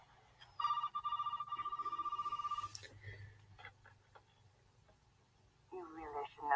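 A telephone rings in the Resident Evil Biohazard video game, a steady electronic ring lasting about two seconds over a low hum, followed by quieter background noise and a voice near the end.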